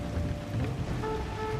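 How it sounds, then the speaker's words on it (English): Heavy rain pouring down inside the video game Cyberpunk 2077, a steady wash of drumming drops over a low rumble, with faint tonal game sounds or music layered on top. "It's raining so hard."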